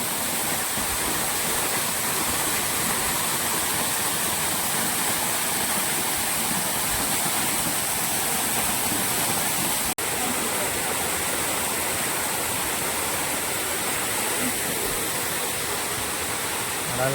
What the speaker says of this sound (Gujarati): તો મિત્રો આ રીતનો અહીંયા વોટરફોલ છે, તમે જોઈ રહ્યા છો વિડીયોમાં। સરસ મજાનું પાણી આવે છે ઉપરથી